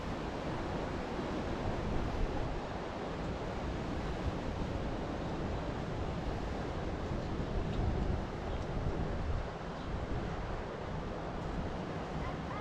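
Steady broadband rush of water pouring into a rocky cove at Cala Gamba, Mallorca, a continuous wash like surf with some wind on the microphone, filling the whole stretch without talk.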